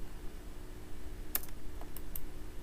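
Keys tapped on a computer keyboard while structural design values are entered in ProtaStructure, a few sparse close clicks over a steady faint background hum.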